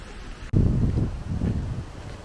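Strong wind on an island on a sunny, cold afternoon, a heavy buffeting rush that hits the microphone abruptly after a quiet half second and then gusts unevenly, loud and close.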